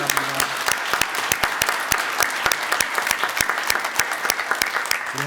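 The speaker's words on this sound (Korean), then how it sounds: "영광의 박수로 함께 나가기 원합니다." Loud, close applause from a church congregation during a Sunday praise service, with many sharp individual claps cutting through a continuous crowd wash.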